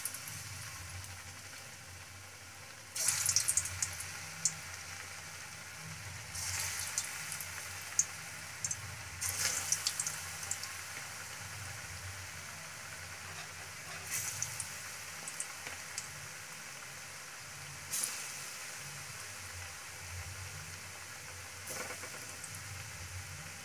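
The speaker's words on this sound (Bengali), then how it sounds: "এবার আমি একে একে কড়াতে ছেড়ে দেব।" Breadcrumb-coated vegetable pieces are dropped one by one into hot oil in a wok. Each piece sets off a faint burst of crackling sizzle that settles into a quiet, steady bubbling fry between drops.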